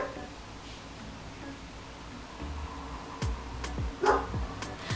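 A neighbor's dogs bark outside, heard through a window. A few sharp barks come in a cluster near the end over a low steady background hum.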